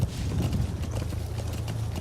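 Horse hooves galloping in the video game Metal Gear Solid V, a fast and steady clip-clop run that stays loud and close throughout over a dense wash of outdoor game ambience.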